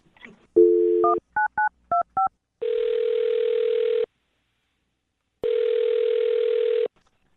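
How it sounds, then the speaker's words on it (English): A sequence of telephone keypad tones beeps out a number, followed by two long, steady ringback tones separated by silence. "I'm dialing his phone number right now"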